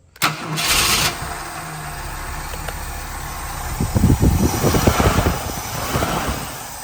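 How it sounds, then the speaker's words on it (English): A 1968 Mercury Park Lane with a 428 FE V8 cranks briefly and fires, then settles into a steady, fairly loud idle close by with no talking. "now the car will keep running once I start it"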